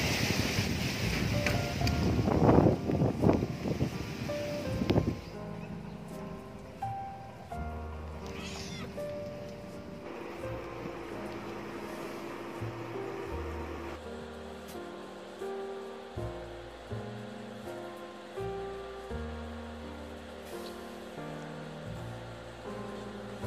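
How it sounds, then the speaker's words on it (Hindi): A strong windstorm with rain makes a loud, gusty roar for about five seconds, then settles into a quieter, broken rushing. Soft cat-like sounds surface now and then. "बहुत जोर की आंधी आ रही है,"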